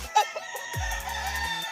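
Roosters crow and chickens cluck at a gamefowl breeding farm in Mabini, Batangas: a short cluck up front, then one loud, close, drawn-out crow, with other birds calling faintly behind.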